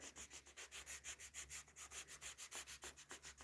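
A surface is sanded by hand with quick back-and-forth strokes, about twenty rhythmic rasping passes in a few seconds, close but quiet and without talking.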